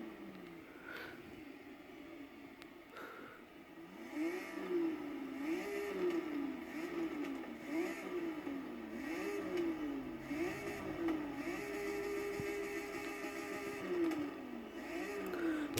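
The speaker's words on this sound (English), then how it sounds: "BMW M3 and the sound of my exhaust as well, and it is also turboed." Turbocharged Rocket Bunny BMW M3 with an aftermarket exhaust in Forza Horizon 3, its engine revving up and down repeatedly in a rising and falling cycle, then holding a steady drone, moderately loud with no talk.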